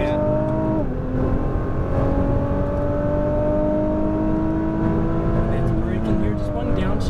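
A Nissan GT-R Premium on a race track accelerating hard, its engine note rising steadily and loud from close inside the car after a brief dip, holding a strong sustained pull, with people talking over it.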